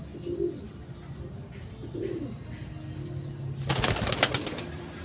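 Racing pigeons coo softly a couple of times nearby, then a burst of wing flapping erupts close by.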